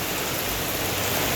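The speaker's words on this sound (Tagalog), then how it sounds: "medyo malakas na naman ang ulan" Heavy rain pours down in a steady, dense hiss of close, loud water with no break.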